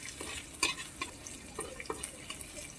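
Chopped onions, green chilies and dried red chilies are stirred in a frying pan, giving soft, faint scraping and sizzling ticks at an uneven rhythm, with no talk.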